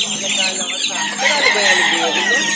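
A flock of about 80 banded chicks and chickens peep and cluck busily together at close range, a dense chorus of overlapping high chirps.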